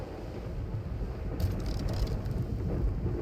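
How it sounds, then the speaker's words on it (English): A storm at sea in the Bannerlord video game, with steady rain and thunder rolling as a continuous, even wash of noise throughout. No one speaks. "We're sailing into a storm."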